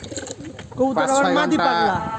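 A pair of Giribaz pigeons coo softly and repeatedly up close, with someone talking over them.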